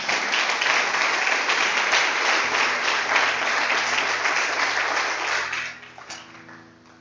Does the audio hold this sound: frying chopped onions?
no